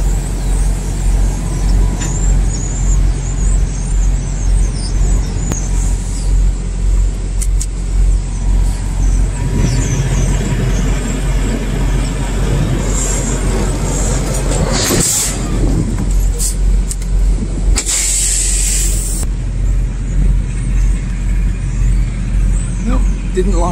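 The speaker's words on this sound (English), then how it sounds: "Means I need to slide the truck backwards until it does lock." Semi truck engine idles and runs loud and steady in the cab while the driver backs up to slide the trailer tandems, with a low rhythmic rumble, brief hissing air bursts, and someone talking over it.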